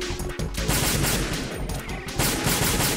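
Sustained automatic gunfire in the video game Metal Gear Solid 2, a dense, loud, continuous burst of rapid shots with brief dips, filling the whole stretch without talk.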